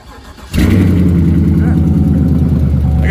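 A Chevrolet Silverado SS truck engine cold-starts in snowy weather after sitting for a week, with a brief crank and then a loud catch into a deep, steady, rumbling idle close by.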